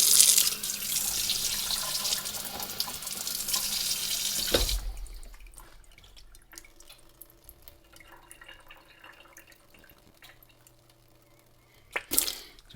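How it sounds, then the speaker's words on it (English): Water is blown through a part of a 1920s Akron 103 lantern being restored, a loud sputtering, hissing rush for about five seconds that cuts off abruptly, followed by quiet, faint trickling and a short burst of splashing near the end. "So you see I can blow water through there."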